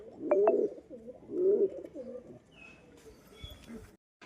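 Pigeons coo on a rooftop near a new cage, with two soft, rounded coo phrases close by at the start, followed by quieter mixed bird sounds and faint background noise.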